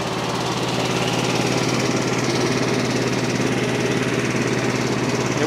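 A 14-horsepower engine drives a Frontier OS23 sawmill through oversized oak, a loud, steady mechanical drone with a fast buzzing pulse that holds unbroken and close throughout.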